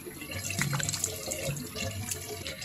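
Tap water running and splashing while a face is washed, a steady close wash of flowing water with brief splashes and a faint voice underneath.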